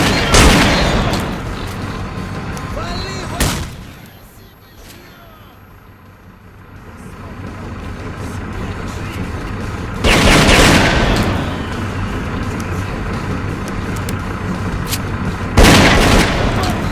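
Loud grenade explosions from Stalker: Clear Sky burst at the start, middle and end, with scattered gunfire between them and a quieter lull after the first blast.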